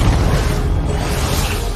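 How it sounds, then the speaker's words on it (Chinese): A deep, rumbling explosion from a powerful green elixir blast in a Chinese fantasy animation booms loudly for nearly two seconds, broad and sustained with no voices over it. "它可以爆炸，而且威力极强。"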